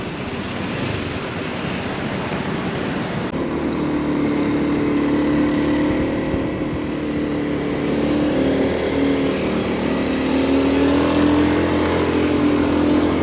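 Congested road traffic in a Turkish coastal area, a continuous hum of idling and creeping car engines with a low rumble, fairly close and steady.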